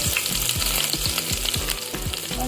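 Crushed garlic hitting hot oil where mustard seeds have already crackled, a loud close sizzle with rapid popping and a rhythmic low thumping of stirring, no speech.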